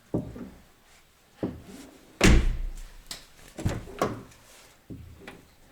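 Toyota Prius 30 car door swung open and shut a few times nearby, with several solid thunks and one loud slam amid quiet shuffling in between.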